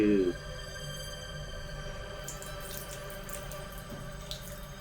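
Shower water runs steadily into a bathtub, a constant close hiss and splash that continues without a break after a brief tonal sound at the very start.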